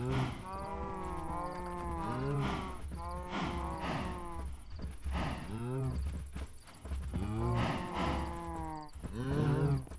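Cattle moo repeatedly in the fantasy game Ancient Kingdoms, several long, loud bellowing calls overlapping one another in quick succession over a steady low background hum.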